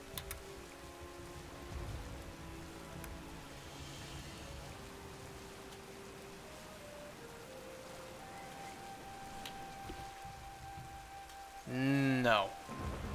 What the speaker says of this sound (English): especially with this rain, too.